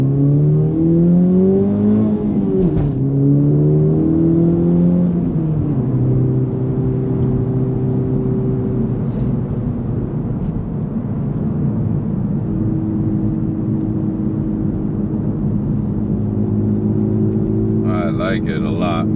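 An FL5 car fitted with an AWE Touring aftermarket exhaust revs up through a few rising and falling sweeps, then settles into a steady drone, loud and close, with brief talk near the end.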